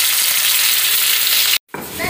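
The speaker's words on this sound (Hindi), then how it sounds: "अभी अच्छे से अल्ट पलट के मैंने ये फ्राई कर लिया हल्की सी" Broccoli frying in oil in a pan, a loud, close, continuous sizzle with stirring, cut by a brief dropout near the end before the hiss resumes.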